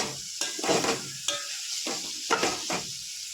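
Vegetable curry sizzling in a pan while being stirred, with repeated scraping stir strokes over a steady frying hiss, close and moderately loud, no talking.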